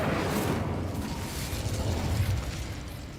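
The Incendio fire spell is cast in a video game, a dense whooshing burst of flame that crackles and roars steadily for a few seconds, loud and close, with no talking over it.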